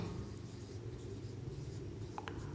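Pen writing by hand on paper during a maths lesson, a faint, continuous scratching that stays quiet and close.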